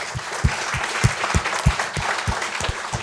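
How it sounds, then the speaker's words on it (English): Audience applause for panelists at the Vector Space Meetup, a continuous clapping wash from a modest crowd with a few heavier, closer claps standing out in a loose rhythm, no talk over it. "round of applause for our amazing panelists."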